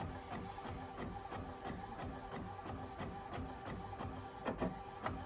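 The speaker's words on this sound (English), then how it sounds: "So it's printing out now. But yeah, this is the Epson 7720" An Epson 7720 printer prints onto sublimation paper with a steady, rhythmic mechanical chatter of repeated print-head passes. It runs continuously at moderate, close-up volume with no speech.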